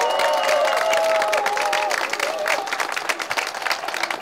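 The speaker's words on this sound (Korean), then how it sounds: "우리 격려와 응원과 지지의 박수, 저희도 반드시 승리할 수 있다는 믿음의 박수 한번 부탁드리겠습니다" Audience applause after a passionate street lecture, a crowd clapping steadily and fading slightly, with a tonal hum beneath in the first couple of seconds.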